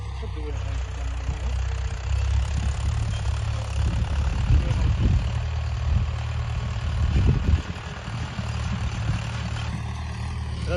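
A tractor engine in a farm field rumbles steadily at close range, a deep low drone that swells in places, with faint voices mixed in underneath.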